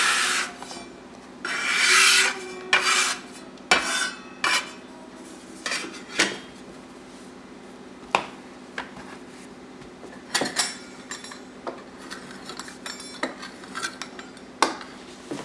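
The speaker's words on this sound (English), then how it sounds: "Now I'm just going to bulldoze these noodles off the cutting board" Homemade egg noodles are scraped off a wooden cutting board with a blade: a longer rasping drag, then a run of short, sharp scrapes and taps, close and clear, with no talking.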